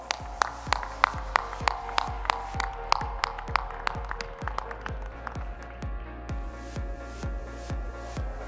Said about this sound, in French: Et vous pouvez les applaudir très fort